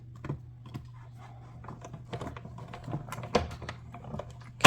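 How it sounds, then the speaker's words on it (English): Paper card shape being die cut for a color-blocking greeting card, heard as a steady low machine hum with scattered crisp clicks and taps, ending in a sharp louder snap, close by and with no talking. "then we're going to die cut that."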